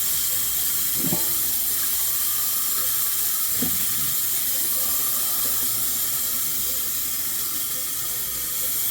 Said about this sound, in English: I'm going to get some cool water.